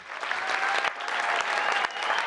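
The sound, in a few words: applause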